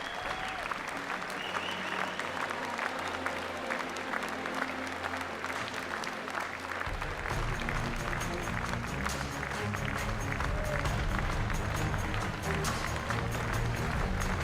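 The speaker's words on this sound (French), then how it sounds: "Alors on vous demande juste d'applaudir" Sustained, dense applause from a large crowd in the stands at a cattle show in Bourg-en-Bresse, steady and loud for the whole stretch, with a low rumble of stamping on the bleachers over the cows housed below joining midway.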